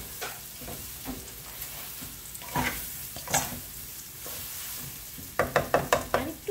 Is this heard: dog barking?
no